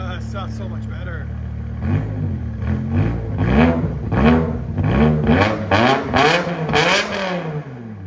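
Straight-piped 5.0L V10 in a 500hp BMW M5 settles briefly at a steady idle, then barks through a string of repeated hard revs, each climbing higher and louder, close to the car.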